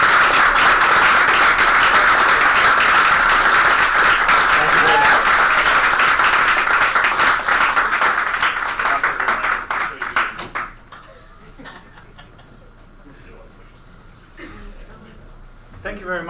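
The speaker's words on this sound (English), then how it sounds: "let us please give our Spring 2019 class a rousing round of applause." Loud, dense applause from an audience for a graduating Spring 2019 university class, sustained for about ten seconds before tapering off into quieter room murmur with a few scattered claps.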